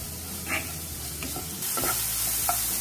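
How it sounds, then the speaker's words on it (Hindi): Vermicelli masala dusted with coriander powder frying in a pan, a steady close sizzle under a few scraping stirs of a spoon, no talking. "इसको मैं 1 मिनट के लिए फ्राई करूंगी ताकि मसाले थोड़ा सा पक जाए।"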